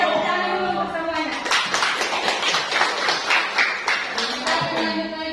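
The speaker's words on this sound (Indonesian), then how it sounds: "Kita tepuk tangan dulu untuk semuanya." A class at a junior high school in Central Sulawesi claps together in a short burst, with scattered hand claps from a group of students rising for a few seconds and then fading.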